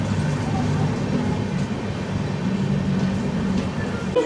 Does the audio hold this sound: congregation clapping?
no